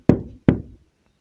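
Two firm, close knocks land on a bedroom door a moment apart, each a solid wooden thud, followed by silence.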